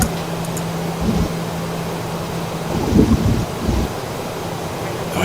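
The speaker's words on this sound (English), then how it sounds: "I should maybe get a little higher so I can get out of these thunderstorms that I'm in." Simulated thunderstorm in Microsoft Flight Simulator: a steady broadband rush of rain and wind with low thunder rumbles swelling around the middle, heard alone with a faint constant hum beneath.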